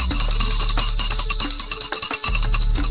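A small hand bell rings steadily in rapid, bright strikes during a Ganesh puja as incense is offered, loud and close over a low hum, with a brief pause near the end before ringing resumes.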